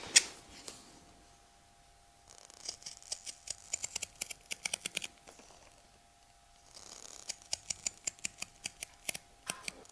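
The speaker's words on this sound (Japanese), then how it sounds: "このギザギザのカットはハサミを使います。 刃がギザギザになっているハサミですね。" Zigzag-blade scissors snip through box calf leather for a full brogue shoe upper in a quiet workshop, giving bursts of sharp, rapid clicking crunches separated by pauses and a faint steady hum.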